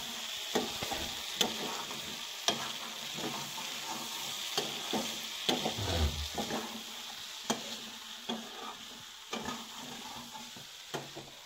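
Puri frying in a pan of hot oil for a traditional Indian breakfast gives a steady, close sizzle, punctuated by sharp clicks and taps from stirring and turning throughout.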